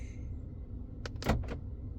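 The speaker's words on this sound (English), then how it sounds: "Got your door locks." Under a low steady hum, a quick pair of mechanical clunks sound as the power door locks of a 2016 GMC Sierra actuate, close and moderately loud.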